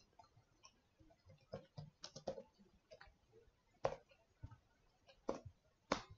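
Irregular keyboard typing on a computer while entering Python code, quiet and near, with scattered soft key clicks and a few louder taps, no talking.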